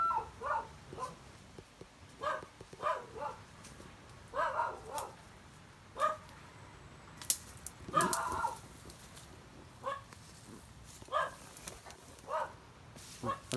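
Dog barking outdoors in a rural setting, several short sharp barks repeating irregularly at moderate distance, with chickens or other fowl clucking around it and no talk.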